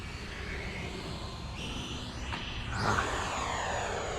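FMS Avanti 90mm EDF RC jet flying at idle throttle, a steady soft electric-fan whine drifting past at moderate distance with a brief swelling whoosh as it passes near.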